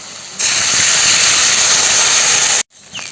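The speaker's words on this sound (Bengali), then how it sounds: "জলটা ফুটে গেছে" Water for cooking greens and thinly sliced potato comes to a boil in a pot, giving a loud, steady hiss for about two seconds that cuts off abruptly, with no talking.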